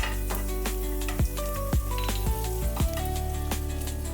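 Spices including chilli powder and onion-garlic masala sizzling and frying in a pan for ragda chaat, with a steady hiss and several stirring scrapes of a spoon against the pan.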